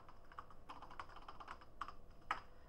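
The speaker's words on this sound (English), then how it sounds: "type on the keyboard." Keys clatter on an old legacy computer keyboard, a quiet close run of irregular clicks and taps with a couple of sharper strokes near the end, no talking.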